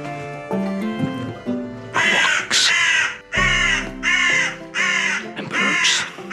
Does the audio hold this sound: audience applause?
no